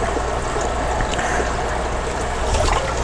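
Water from several aquarium tanks in a fish room draining through soft tubing into a makeshift sump, a constant close trickling and splashing rush with no pauses.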